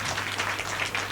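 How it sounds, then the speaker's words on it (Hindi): A congregation at a Hindi Christian church service claps hands together, a dense, continuous patter of applause filling the whole moment. "ताली बजाकर एक बार हालेलुया, हालेलुया।"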